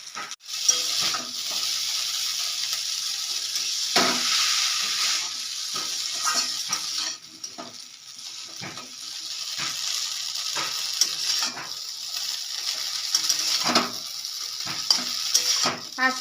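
Boiled chow mein noodles fry in a pan while being stirred, giving a constant close sizzle broken by scraping and stirring clatters throughout.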